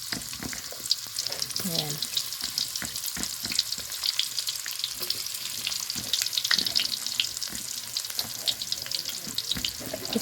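Onion and garlic sizzle steadily in hot oil in a home kitchen pan, a dense continuous crackle close to the mic, with a brief spoken word early on.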